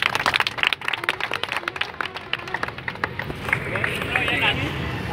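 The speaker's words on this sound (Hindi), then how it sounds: "ताली ताली ताली बजे भाई।" An outdoor street play audience claps in quick, uneven bursts of scattered claps, mixed with crowd chatter and voices close by. The sound eases into a steadier murmur toward the end.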